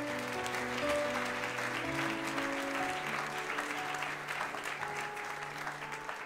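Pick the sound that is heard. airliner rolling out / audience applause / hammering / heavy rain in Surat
audience applause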